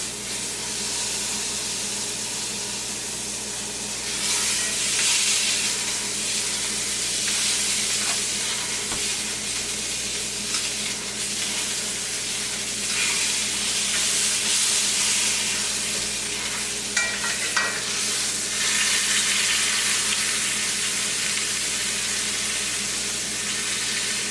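A rack of lamb sizzles steadily in a hot pan, skin side down, a constant loud crackling hiss with occasional spits and pops, and no voices.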